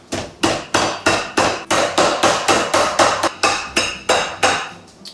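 Chicken is pounded flat in a home kitchen with an improvised mallet, about fifteen evenly spaced, sharp thudding whacks, each decaying quickly, close and loud in a steady rhythm.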